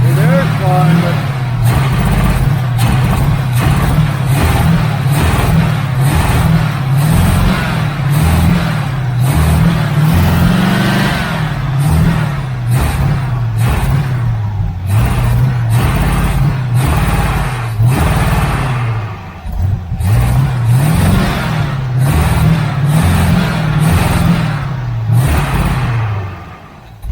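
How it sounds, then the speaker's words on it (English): A 1980 Camaro Z28 V8 with new headers and a faulty carburetor idles close by, a loud, lumpy, pulsing rumble that runs steadily throughout without any talk. "It idles great, but yeah, something's wrong with that carburetor"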